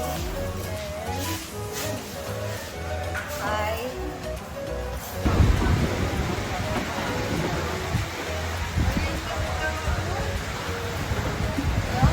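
Steady rain pours down in Phuket, a dense rushing patter that grows louder partway through, with people talking and background noise underneath.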